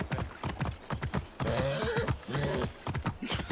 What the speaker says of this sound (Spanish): No sé de qué se queja el caballo.